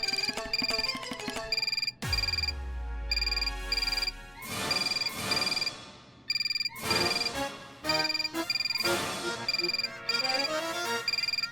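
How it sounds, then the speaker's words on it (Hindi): A phone rings on an office desk, playing a loud, repeating electronic ringtone melody in bursts that continue throughout, with no one speaking. "ये फोन मेरा है। हमारी डेस्क पे बजा।"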